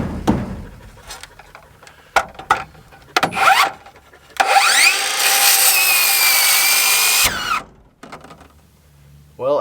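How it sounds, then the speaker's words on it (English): A hand saw cuts through a section of scrap wood brace under the weight of a rain roof being moved. Short rasping strokes build into a sustained, loud grinding stretch, then break off into scattered knocks and scrapes. "I got that saw blade jammed up when the weight of the roof rested down"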